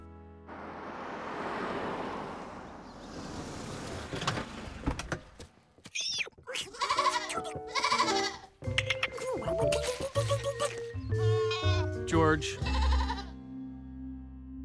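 Goats bleat in the Curious George animated farm cartoon, with several short bleats scattered over a busy mix of cartoon voices, effects and music.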